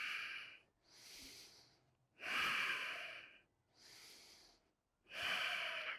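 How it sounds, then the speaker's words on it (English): Deep, audible breaths during a power yoga flow, alternating long inhales and exhales in a steady rhythm of about five breaths, close and fairly quiet. "Breathing in. Exhale, gently release."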